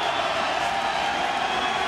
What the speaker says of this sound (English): Crowd is on their feet at Woodward Field.